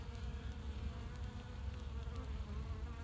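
Honeybees work inside a hive box during queen rearing, making a steady, soft, continuous buzzing hum with no pauses.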